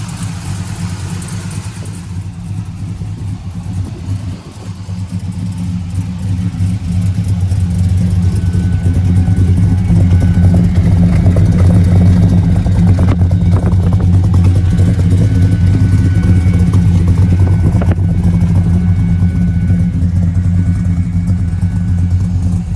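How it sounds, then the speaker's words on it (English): The V8 engine of a 1972 Chevrolet Chevelle, rated about 450 horsepower, rumbles close and loud at a steady idle, swelling after a few seconds into a heavier, sustained run with a deep, throaty tone. "Check out the engine compartment now. Sounds excellent. It's about 450 plus horse."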